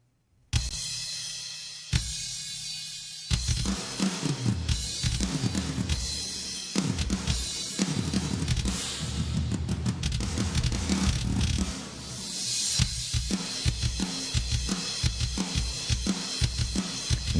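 Drum samples with heavy EQ and compression and an 80s-style snare, playing as a steady mixed groove with punchy repeated hits and no talking over it.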